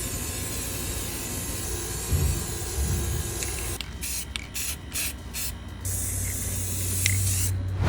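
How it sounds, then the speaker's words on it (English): A can of lavender spray paint hisses in long continuous bursts, a steady broadband rush with brief pauses between sprays, close by. "we're using this lavender spray paint as our thing for everything,"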